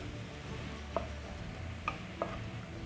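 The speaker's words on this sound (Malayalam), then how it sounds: "ഇനി നന്നായിട്ടൊന്ന് വഴണ്ട് വരട്ടെ" Onions and shallots sautéing quietly in a pan, a soft continuous sizzle broken by a few light clicks of a spoon stirring against the pan.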